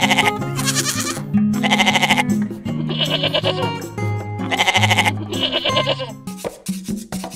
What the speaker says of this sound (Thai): นี่ก็คือแพะ